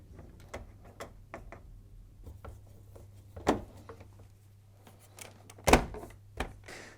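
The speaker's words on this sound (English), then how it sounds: "To fit the new hinge and the door assembly, simply slot it into place on the cabinet and then refit the two T20 screws." A new door hinge assembly slots onto a Hoover tumble dryer cabinet and two T20 screws are refitted: a series of close, sparse plastic clicks, taps and rubbing, with a couple of sharper knocks.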